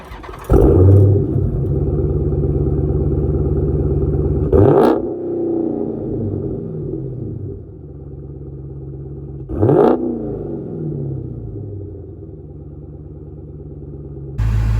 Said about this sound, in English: this car does have an MBRP exhaust kit. Let's see what that sounds like.